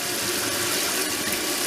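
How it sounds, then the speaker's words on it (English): Water with tomato seeds pouring into a colander, a loud steady close rush of splashing liquid with no pause. "that's why I pour it into the colander"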